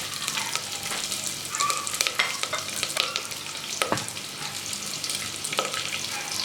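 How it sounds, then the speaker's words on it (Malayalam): Green chillies, onion and curry leaves sauté in vegetable oil for a dal tadka, with a continuous moderate sizzle, crackling pops and occasional spatula scrapes against the pan as the mix is stirred close by. "ഇനി ഇതിലേക്ക് അരിഞ്ഞു വെച്ചിരിക്കുന്ന പച്ചമുളകും സവാളയും കൂടി ചേർത്ത് നന്നായിട്ട് വഴറ്റണം."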